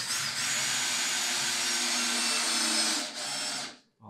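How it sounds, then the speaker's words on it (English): A power drill drives screws into a wooden pedestal table, a loud steady whine held for about three seconds, briefly dipping, then cutting off and restarting. "I'm ready to screw these things in."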